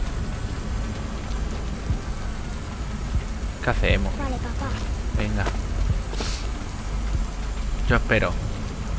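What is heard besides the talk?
rain in video game Killzone Shadow Fall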